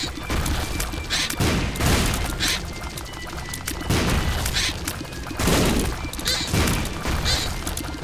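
Bombs exploding in The Binding of Isaac, a rapid series of loud blasts and crashes in several bursts, one after another, with no talk over them.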